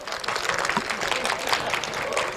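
An audience at a political event applauds as a Congress party speaker is called to the dais, a dense, continuous patter of many hands at a steady level with faint voices mixed in.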